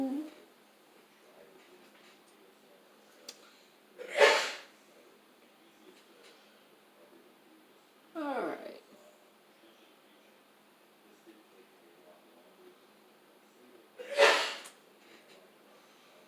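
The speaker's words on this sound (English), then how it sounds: "Bless you, Gesundheit." During a Dungeons & Dragons tabletop session, someone sneezes in sharp, breathy bursts spaced several seconds apart against near silence, with a brief spoken word.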